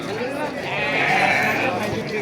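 Sheep bleat loudly and close by at a busy livestock market, one drawn-out wavering call standing over crowd noise and people talking.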